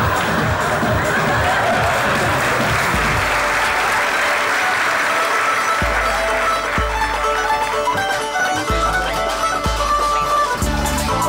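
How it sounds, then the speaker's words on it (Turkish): Loud studio audience applause with cheering on a Turkish comedy sketch show, a continuous roar of clapping under a rhythmic low beat of music. "Alkış."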